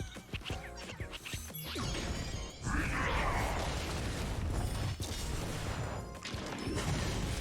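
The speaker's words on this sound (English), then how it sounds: "we're gonna see some explosions." Explosions and smashing impacts in a Honkai: Star Rail turn-based battle, with repeated crashes and bursts over a dense, loud game soundtrack that sustains throughout.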